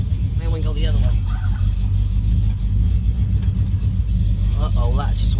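A 1971 Chevrolet El Camino with no working gas pedal rumbles steadily as it rolls along, a constant low engine drone running under talk throughout.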